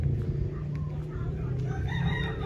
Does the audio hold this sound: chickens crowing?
yes